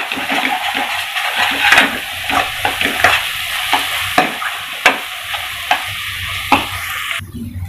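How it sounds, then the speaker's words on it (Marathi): Masala roasting in a pan for Maharashtrian pithla, a steady sizzle broken by repeated scraping stirs of the spoon at an even pace, close and loud. "आता आपला मसाला छान भाजला गेला आहे"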